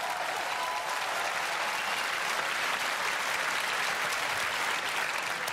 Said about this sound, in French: Vous avez le droit d'applaudir, vous avez le droit!